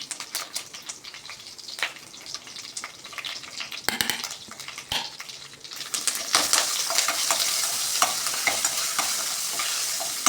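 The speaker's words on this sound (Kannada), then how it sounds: "ಬ್ಯಾಡಗಿ ಮೆಣಸಿನ್ಕಾಯಿ ಒಗ್ಗರಣೆಗೆ ಹಾಕ್ಕೊಳ್ಳಿ" Byadgi chillies, mustard seeds and curry leaves sizzle hard in hot coconut oil for a mackerel curry tempering, with a spoon scraping and clattering against the pan as the frying builds louder and more constant.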